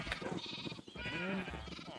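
Minecraft sheep bleating in a pen, several wavering, nasal bleats following one another over two seconds, fairly close and clear with game ambience behind.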